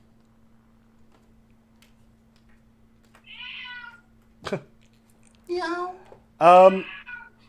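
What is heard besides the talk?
cat meowing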